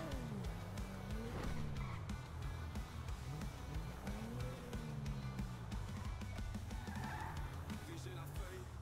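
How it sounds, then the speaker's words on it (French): A car engine in GTA RP revs and accelerates in varying pitch sweeps, a steady game-engine drone with tire noise, heard under ongoing chatter. "Démarre le moteur."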